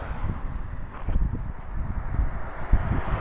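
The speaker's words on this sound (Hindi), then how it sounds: "यहाँ पर देखो हमेशा हवा चलती रहती है" Steady wind blows outdoors near the sea in Italy, buffeting the microphone with low rumbling gusts and rustle that rise and fall throughout, no voices present.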